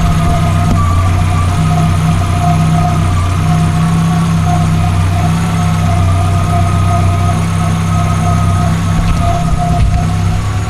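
A Volkswagen Golf Mk2 engine idles steadily with a fitted short shifter kit, giving a loud, even hum with constant low tones and no change in pitch over about ten seconds.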